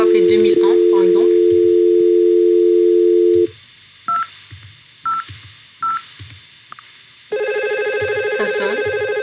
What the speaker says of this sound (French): on va appeler 2001 par exemple